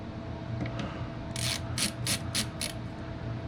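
A hand ratchet clicks in a quick burst of five bright, evenly spaced ratcheting strokes while being used for tightening, close and clear over a steady low hum.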